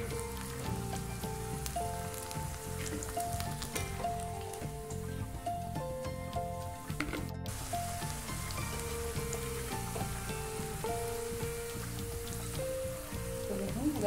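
Cauliflower pieces frying in hot oil give a continuous crackling sizzle, soft and steady, with melodic background music playing over it the whole time.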